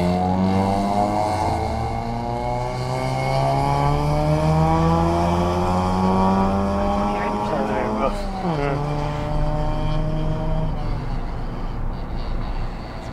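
A loud, low-slung car passes close by on a UK road near speed bumps, its rumbling engine droning steadily with shifting pitch, one rise and drop as it goes by, heard from inside another vehicle.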